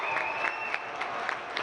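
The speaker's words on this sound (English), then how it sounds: "And all 5 of the Raider starters will head to the bench to a boisterous round of applause" A high school basketball crowd at a Somerset-Berkley versus Masconomet playoff game applauds steadily as the starters head to the bench, clapping echoing through the gym with a sustained tone running through it.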